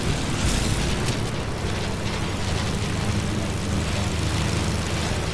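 A steady, loud broadband roar of an airplane flying in Fortnite fills the whole stretch evenly, with a low rumbling body and no breaks.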